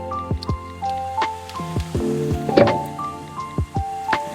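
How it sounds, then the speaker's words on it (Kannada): Water is squeezed by hand from cooked spinach in a series of close, squelchy squishes and drips, repeating irregularly about once every half second. "ಚೆನ್ನಾಗಿ ಹಿಂಡ್ಬಿಡ್ಬೇಕು ಈ ನೀರನ್ನ"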